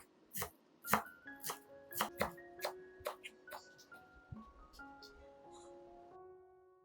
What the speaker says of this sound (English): Prepare a little finely chopped parsley.